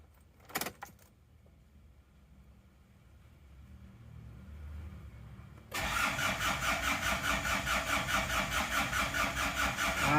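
A car engine on a weak battery: faint jangling keys, a long low cranking that builds for about five seconds, then the engine catches and settles into a loud, steady rhythmic idle.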